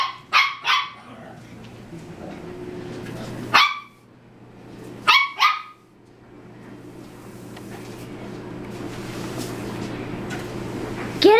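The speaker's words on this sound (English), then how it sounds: "That is a loud bark." A dog barking loudly at a broom, indoors: several sharp, close barks in quick pairs with gaps between, over a low steady hum, with faint voices in the background.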